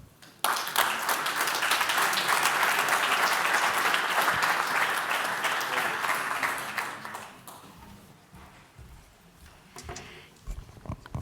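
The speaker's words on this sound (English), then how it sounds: "A round of applause, please." Loud, sustained applause from a large conference audience, many hands clapping together for several seconds before fading down to scattered claps at the end.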